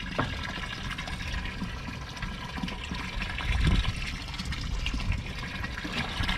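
Steady rushing and splashing of water pouring into a hydroponics system container through a drain valve, a continuous low churning that swells briefly midway.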